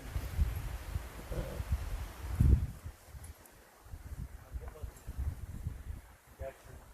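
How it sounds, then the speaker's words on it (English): Heavy wind buffets the microphone outdoors while a hunting blind is put up, with steady low rumbling gusts and rustling that peak around the middle; a person talks intermittently over it. "With a heavy wind."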